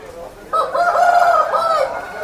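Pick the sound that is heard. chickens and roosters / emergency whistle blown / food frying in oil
chickens and roosters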